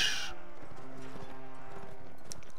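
A horse's hooves clip-clop at a steady walking rhythm in Mount & Blade Warband, moderately close over an even ambient bed, with a brief bright burst at the start.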